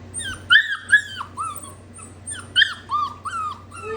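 A golden retriever puppy whimpers and yips in a series of high, wavering cries close by, coming in short bursts with brief gaps over a quiet indoor background.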